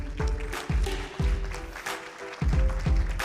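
Audience applause at a health summit welcoming a hospital director onstage: a room of people clapping in rhythmic rounds with pulsing, uneven bursts throughout.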